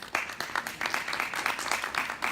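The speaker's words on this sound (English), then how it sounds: "Let's give them a round of applause." An audience applauds scholarship recipients at a keynote event, a moderately faint, even patter of clapping lasting a couple of seconds.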